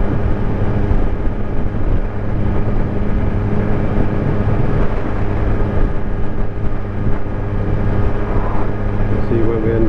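A Suzuki GSXR1000 motorcycle ridden along country lanes on an autumn day, its engine a steady, humming drone mixed with heavy wind rush throughout.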